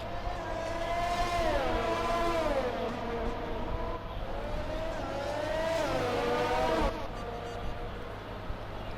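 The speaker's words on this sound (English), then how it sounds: "I love how the cars fly through the corners on this track." F1 cars from the F1 2020 game race through corners at the Azerbaijan Grand Prix in Baku, engine whine climbing and dropping in two long sweeps as they brake and accelerate, loud and continuous.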